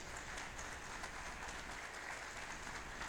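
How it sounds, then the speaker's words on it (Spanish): A church congregation applauds together in a steady, dense wash of clapping that holds evenly throughout, filling the room without any voices rising above it. "Denle un fuerte aplauso al Señor."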